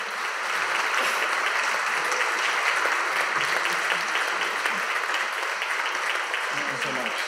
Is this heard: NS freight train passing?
no